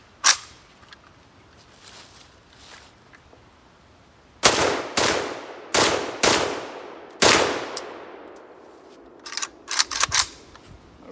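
Riley Defense RAK-47-P rifle firing from its factory Tapco magazine: loud, sharp single shots at irregular intervals, a few faint early pops followed by heavy reports with ringing decay, then a quicker cluster near the end.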